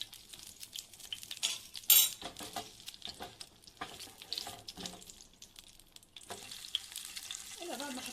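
Butter frying in a pan for chicken stroganoff, a faint sizzle with scattered scrapes and clinks, one brief sharp clatter early on, and some watery splashing.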